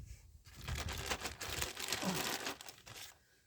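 A plastic bag crinkles and rustles loudly up close for a few seconds, then quiets down, with no speech.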